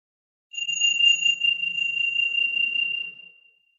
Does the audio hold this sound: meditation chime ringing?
yes